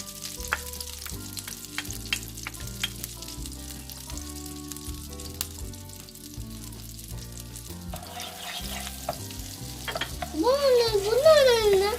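Butter melting and sizzling in a frying pan over lowered heat, ready for frying egg-dipped toast; a steady soft sizzle runs under background music that swells near the end.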